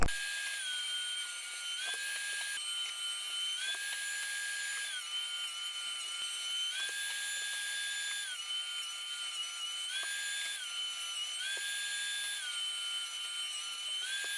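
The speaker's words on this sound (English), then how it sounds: "run it through my planer and joiner, get the edges smooth" Wood boards run through a planer while building a farmhouse desk, giving a continuous high-pitched motor whine that steps up and down in pitch as each board feeds through, steady and fairly close throughout.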